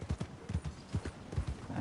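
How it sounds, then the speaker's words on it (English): Hooves of an Arabian horse clip-clop in a steady, close rhythm across a Red Dead Redemption 2 game scene, moderately quiet with no talk over them. "so we've got a beautiful Arabian horse"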